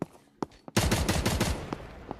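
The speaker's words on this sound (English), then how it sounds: "we're seeing gunshots as of the moment" Gunfire in the video game MATR1x Fire during a Team Flazers versus Gems Esports match: a few sharp isolated shots, then a dense rapid burst of automatic fire for about a second, followed by scattered single shots.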